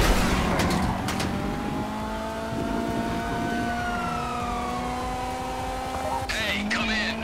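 A police car siren in GTA Online during the Fleeca Job heist wails with slow rising and falling tones, steady and fairly loud over engine noise, with people talking over it.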